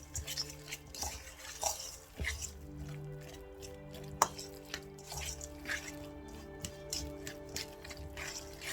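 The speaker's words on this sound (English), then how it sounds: "And mix it up." Eggplant parmigiana ingredients with basil or parsley and pepper being stirred together in a bowl, soft scraping and clinking of a utensil against dishware in an irregular rhythm, fairly quiet and close.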